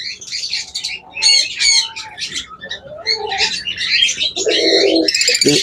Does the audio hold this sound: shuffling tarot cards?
no